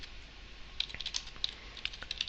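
Quiet, irregular typing on a computer keyboard during coding work in Visual Studio, with scattered soft key clicks in small bursts and no talking.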